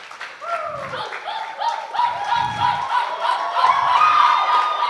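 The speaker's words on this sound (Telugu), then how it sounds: "వచ్చి కూర్చునే వరకు చప్పట్లు కొడుతుందా ఉన్నామండి." An audience at a retirement function in Ongole claps as students escort a retiring teacher up, a steady mix of applause and crowd noise building louder toward the end, with voices calling out over it.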